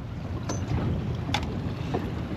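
Strong wind on a small fishing boat at sea, a constant low roar of gusts buffeting the microphone with water and hull noise beneath, close and steady, with no talk.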